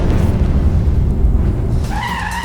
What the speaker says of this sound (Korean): 이어지는 자동차 추격신.